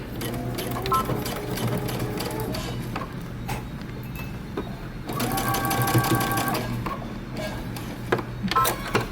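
Sewing machine running a seam on fabric tabs for a bomber jacket, a close, rapid rhythmic chatter with a brief pause and then a second steady run.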